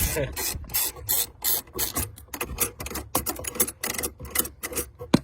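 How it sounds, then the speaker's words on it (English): Someone undoing nuts and bolts while removing a dashboard: a rapid series of ratcheting, rasping clicks in short bursts with brief pauses between them, close up and fairly loud. "now I'm just going to undo these two nuts, bolts should I say"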